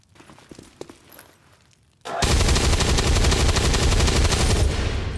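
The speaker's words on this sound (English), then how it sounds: "Yeah, I'll take the shot." Gunfire in XCOM 2: after quiet footsteps, a loud sustained burst of rapid shots erupts and continues to the end, dense and close with no talk.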